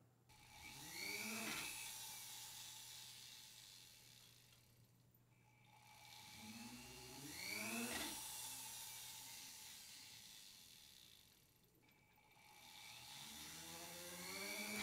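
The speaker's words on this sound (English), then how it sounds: "and then I can drill through the copper." A drill whines up and winds down in three long cycles, each pass rising in pitch as the bit bores through copper sheet, close and steady.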